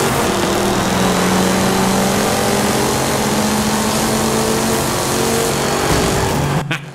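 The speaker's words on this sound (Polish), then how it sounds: "nie tylko dźwięki samochodu mojego, nie tylko dźwięki otoczenia, wiecie, dźwięki dżungli, ale także dźwięki innych samochodów" Several car engines rev and roar continuously in Forza Horizon 5, a loud dense drone of engine noise with steady tones, cutting out abruptly near the end.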